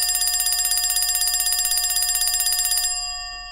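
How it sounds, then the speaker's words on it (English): Winner bell rung on a live show, a loud, rapid, continuous electronic bell trill lasting about three seconds, then a fading ring-out with no talk. "I'm going to give you the winner bell on that."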